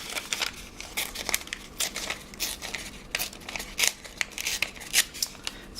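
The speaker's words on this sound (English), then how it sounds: "I might just rip this." Paper is ripped by hand while making a collage page, giving a quick series of close, crisp tearing rasps and crinkles in uneven bursts, with no talking.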